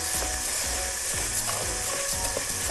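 Rice scrapes and rattles as it is stirred in a hot pan, a close, dry rhythmic scratching over a low sizzle, with no talk.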